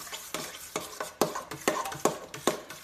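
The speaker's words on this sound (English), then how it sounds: "we're going to take a spoon, obviously, and mix it together." A spoon stirs horseradish and ketchup together for cocktail sauce, with about eight regular scraping, clinking strokes against the bowl, close and clear with no talking.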